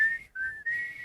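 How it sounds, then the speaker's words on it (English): A single person attempts a loud stadium-style whistle: a sustained shrill tone that breaks briefly and then resumes, steady and fairly close, with no talking. "Can anybody here do the loud whistle like you do at a game or a concert?"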